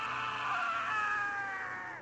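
A man's loud, drawn-out scream of terror in a horror tale, one sustained cry lasting about two seconds before cutting off, with no talk over it.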